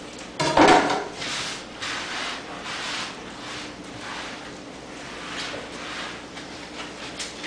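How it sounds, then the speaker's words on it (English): A knife and a cutting board are being cleaned in a home kitchen, with a sharp clatter at the start followed by steady rubbing and wiping scrapes, close by with no talk. "Clean the cutting board off real quick."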